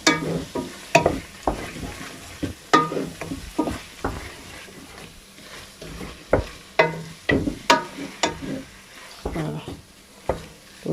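Tripe and meat sauté in a dry pan with no oil, giving a low sizzle broken by sharp, repeated scrapes and knocks of a utensil against the pan, close and irregular, with a voice speaking at times.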